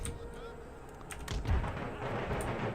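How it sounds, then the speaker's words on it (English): Distant cannon fire booms in the strategy game Empire: Total War, a few heavy artillery thuds rolling over an ambient battlefield backdrop, with a voice speaking over it. "their artillery is firing"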